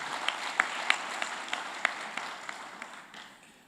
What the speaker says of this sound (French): Est-ce que nous pouvons applaudir pour lui?